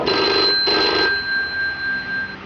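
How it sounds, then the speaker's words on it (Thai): Telephone ringing in two bursts of electronic trilling bell, close and fairly loud, followed by a steady high tone lingering after the rings stop. "โทรศัพท์เจ้าชายเข้า"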